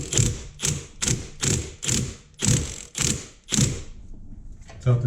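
A ratchet undoing the last bolt while removing a blown engine from a big-turbo Mk7 Golf R, seven loud rhythmic bursts of clicking strokes, then quiet rustling and a final thump.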